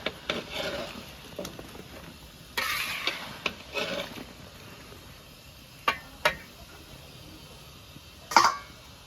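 Apples turned over in a pan as they boil for a milkshake: sparse, close scraping and clinking strokes of a utensil against the pan, with quiet gaps between them and no talk.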